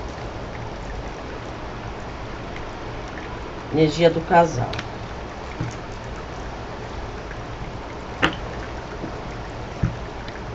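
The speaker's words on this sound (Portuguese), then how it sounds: "Vocês estão ouvindo, né, o barulho da chuva?" Steady rain falls as a constant broad hiss throughout, with someone speaking briefly over it and a few faint clicks.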